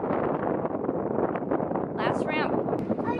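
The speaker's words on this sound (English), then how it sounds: "It's windy." Steady wind on a cruise ship rushes and buffets the microphone, with a faint high whistle or squeal briefly rising near the end.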